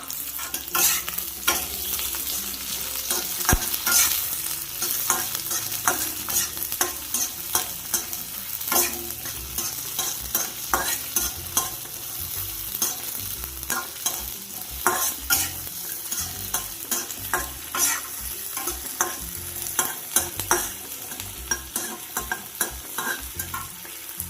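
Onion being stir-fried in a pan for paneer chilli: a constant close sizzle broken by frequent rhythmic scrapes and clacks of a spoon against the pan, with no voices.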